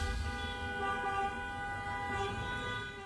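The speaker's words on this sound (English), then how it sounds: "Dozens of cars with honking horns and flashing lights surrounded the homes of at least two Fresno County Board supervisors Thursday night." Many car horns sounding together outside homes during a healthcare workers' protest in Fresno County, a sustained chorus of overlapping tones that stays loud and holds for several seconds.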